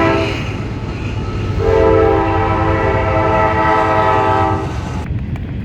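A train passes close by a house beside the railway track, its steady rumble and horn tones swelling loudly in the middle before cutting off sharply near the end.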